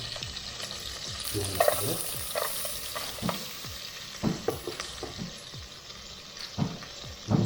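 Garlic frying in butter in a pan for a mushroom and egg soup, a continuous close sizzle broken by repeated scraping stirs and spoon knocks at an uneven pace, with no speech.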